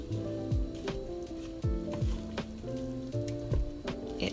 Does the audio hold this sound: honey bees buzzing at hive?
no